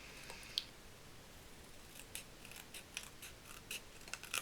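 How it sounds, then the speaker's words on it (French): Scissors cutting paper for a handmade advent calendar, a series of soft crisp snips and small rustles at an uneven pace, quiet and close, with the clicks growing busier toward the end. "on vient enlever le papier en dessous et couper au plus près de l'image"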